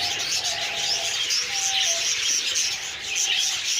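Budgerigars and their chicks chirp and chatter continuously in a breeding cage, a dense, close twittering with occasional longer whistled calls above it.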